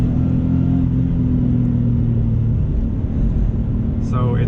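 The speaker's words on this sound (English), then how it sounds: "Oops, I had to rev it higher. And this thing likes to live up top." A JDM Subaru WRX engine revving high toward a 7,000 RPM redline, a loud sustained drone that holds steady throughout, with a brief higher sound near the end.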